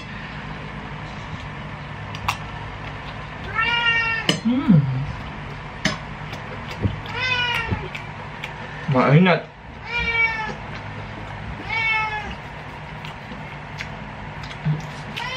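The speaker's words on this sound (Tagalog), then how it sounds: "May kalaban na naman tayong pusa." Several drawn-out cat meows rise and fall across the span, some faint and some fairly close, interspersed with a person speaking and occasional clicks and ticks.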